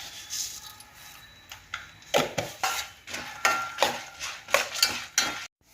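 Ingredients for a Telugu nalleru chutney fry in a pan, with a spoon stirring and scraping in a steady rhythm of rubbing strokes over a faint sizzle, close by.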